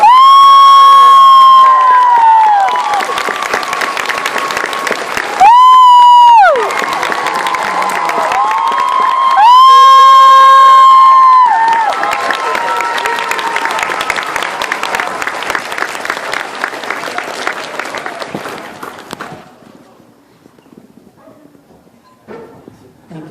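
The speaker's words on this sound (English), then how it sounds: "please welcome those special guests with a big round of applause" An audience at a live anime convention panel bursts into loud, sustained applause and cheering, with whoops and shouts rising over the clapping before it thins out and fades near the end.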